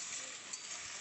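Potatoes stir-fried with a spice masala sizzle in a hot pan, giving a steady, close hiss for about a second.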